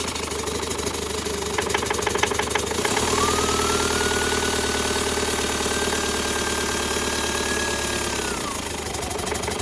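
TDI diesel engine idling roughly at a low idle, a close, steady knocking clatter with an uneven rumble, joined partway through by a sustained whine that holds for several seconds before fading back to the idle.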